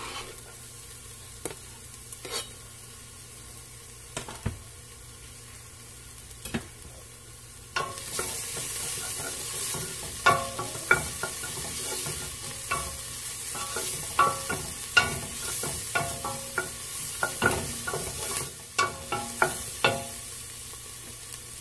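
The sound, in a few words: minced fresh garlic sautéing with onions in a pot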